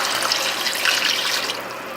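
Water, 1.5 cups, poured into a pan of Filipino adobo where the soy sauce has bubbled down: a steady, close splashing and gushing rush that holds evenly for about two seconds, with no talking.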